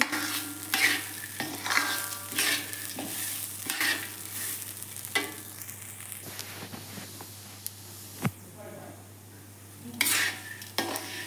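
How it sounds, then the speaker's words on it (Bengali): Rice fries in a pan with a steady sizzle and repeated scraping stirs of a spatula, close and fairly loud, with no talking. "ভালো করে আমি চালটা ভেজে নিচ্ছি"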